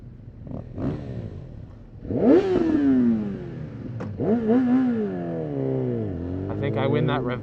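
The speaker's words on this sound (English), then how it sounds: "I think I win that rev battle." A naked motorcycle revs hard in a back-and-forth rev battle with other riders nearby, its engine rising and falling in several loud sweeping bursts, with a voice heard over it.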